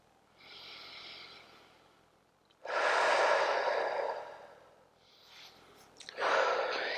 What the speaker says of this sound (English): Find a steady breath rhythm.